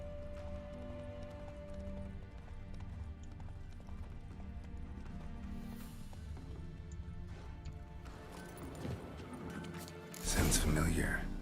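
Roach the horse from The Witcher 3 galloping, a steady clip-clop of hooves under game music and ambience, with a louder crash-like burst near the end.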